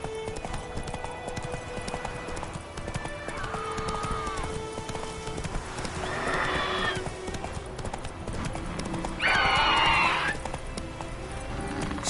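Horse galloping under a rider in a PS4 video game, rhythmic hoofbeats clip-clopping steadily throughout, with occasional snorts and whinnies breaking in over the running.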